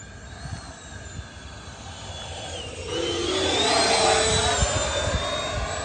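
Freewing Gripen RC jet with a 70C 4400 mAh pack crawling past in slow flight, a steady electric ducted-fan whine and rushing air that swells louder and nearer halfway through, with no talk.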